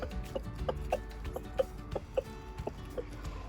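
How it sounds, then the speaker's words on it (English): Backyard chickens cluck in short, scattered bursts while pecking at a fresh head of lollo lettuce tossed to them for breakfast, the soft calls repeating irregularly over a low, steady background. "You see how the chicken will react if I throw this?"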